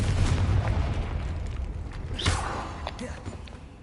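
Confringo blasting spell explosion in the Hogwarts Legacy video game, a deep booming burst with low rumble under continuous game noise and voice, one sharp blast standing out midway.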